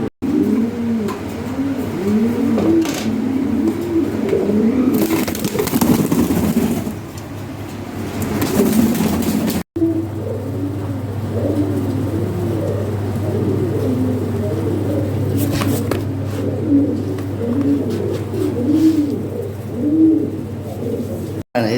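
Indonesian Beauty Homer pigeons coo continuously and close by, in overlapping rolling calls over a steady low hum, with no talking.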